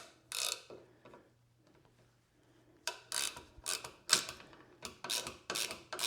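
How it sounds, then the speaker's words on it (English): A SUZUME reversible ratchet wrench drives a short lag bolt, giving bursts of rapid clicking pawl ratchet strokes, close and fairly loud, separated by brief pauses, with a low steady hum underneath. "Let's ratchet this one down in"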